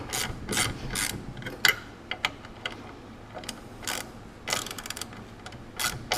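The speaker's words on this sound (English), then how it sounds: "my ratchet would snap these right off" Ratchet tightening rear sway bar bolts on a Porsche 944: bursts of rapid clicking in short strokes with pauses between, fairly close and moderately loud, no talking.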